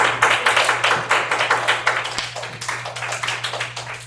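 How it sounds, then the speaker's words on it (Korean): An audience at a Korean church lecture claps together, with a steady, fairly loud patter of many hands carrying on for several seconds over a low background hum. "네, 박수 한번."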